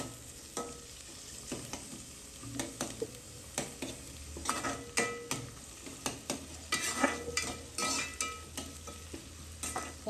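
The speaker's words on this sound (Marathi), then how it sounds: "चला, आता टॅमॅटो टाकून द्या." Tomatoes stirred into a hot frying pan for cabbage curry, with a steady sizzle and repeated scraping stirs of a spoon against the pan, close and fairly loud, with no voices.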